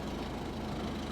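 A used car sits idling at a Manheim auction with a reported uneven idle and noisy exhaust, giving a low, steady engine rumble that is faint and continuous, with no talk.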